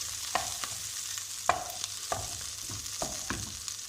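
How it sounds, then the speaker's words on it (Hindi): Garlic and ginger fry in a pan with a soft, steady sizzle, while a spoon scrapes and taps against the pan at a few irregular moments. No one speaks. "लहसुन अदरक हमने इसमें डाल दिया और इसको हम अच्छी तरह फ्राई करेंगे।"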